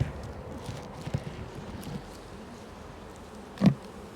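Honey bees crowd four hive frames during queen rearing, giving a faint, steady buzz that rises in one short louder burst near the end, with no voices.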